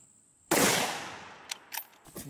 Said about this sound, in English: So we got my Christian Arms 308 Mesa long range rifle and 168 grain hollow points.